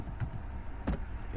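A computer keyboard gives a few soft, sparse clicks in a quiet room, the keys heard up close as yes is entered at a prompt.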